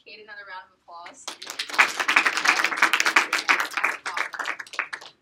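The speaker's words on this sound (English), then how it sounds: "Can we give Kate another round of applause?" Small group clapping for Kate at a training prep session, a burst of close, irregular hand claps starting after a brief spoken moment and continuing for several seconds, with voices mixed in.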